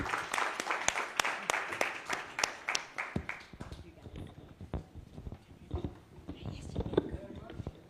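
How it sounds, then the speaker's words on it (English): Audience applause for panelists at an affordable housing forum: a run of sharp, fairly close claps from a small crowd that thins out as people start talking in the room. "and a round of applause for them."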